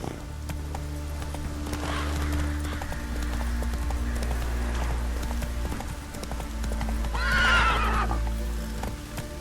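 Roach, Geralt's horse in The Witcher 3, gallops with steady rapid hoofbeats over a low rumbling game background, and a loud neigh rises near the end.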